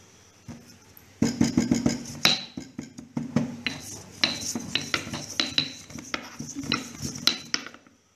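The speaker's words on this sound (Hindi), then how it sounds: "इन छिलकों को अच्छे से पीस लीजिए।" Ridge gourd peels being ground in a kitchen grinder or mortar, with dense clattering, scraping and knocking strokes that start abruptly and continue irregularly at close range, no talk.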